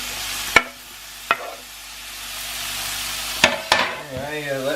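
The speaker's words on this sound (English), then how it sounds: "Anyway, let's get stirring." Beef and beer fry in a pan, a soft continuous sizzle broken by a few sharp knocks of the stirring utensil against the pan, close and fairly quiet.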